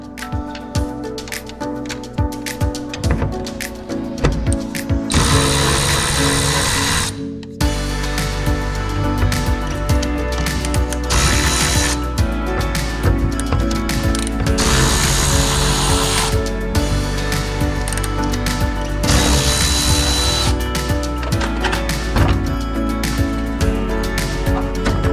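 Working on the shifter of a flood-damaged 1965 Chevrolet Corvair, a tool whirs and clatters loudly and nearly continuously, with bursts of higher-pitched running and a brief pause midway.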